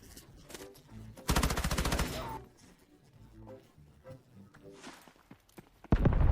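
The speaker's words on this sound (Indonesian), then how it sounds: "Terdengar suara tembakan dari ruangan brankas." A burst of rapid automatic rifle fire rattles up close during a Delta Force battle royale match, followed by scattered single shots, footsteps and a final loud volley at the end.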